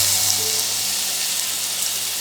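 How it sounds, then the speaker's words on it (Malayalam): Ginger, garlic and green chili paste sizzles in hot coconut oil, giving a continuous bright frying hiss that stays close and steady with small crackles and no talk. "ഇതിൻ്റെ പച്ചക്കുത്ത് മാറുന്നവരെ ഒന്ന് വഴറ്റിയെടുക്കുക"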